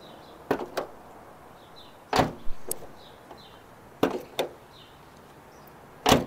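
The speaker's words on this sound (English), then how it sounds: "Here's another angle in testing the door." The door of a 2005 BMW Z4, just repaired after sticking, opens and shuts in a repeated cycle of sharp clicks and latch thuds in pairs, loud and close, with quiet gaps between and no talking.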